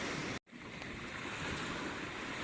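Sea waves break and wash up on the beach at Porbandar in a constant surging roar with wind noise, broken by a brief dropout early on.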